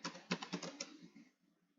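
A few quick computer-keyboard keystrokes tapped in a short, uneven burst, close and quiet, trailing off into near silence.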